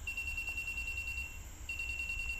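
A buzzer on Arduino-built anti-sleep glasses beeps in a fast, rapid pulsing tone, loud and close, cutting out briefly before resuming, over faint background hum.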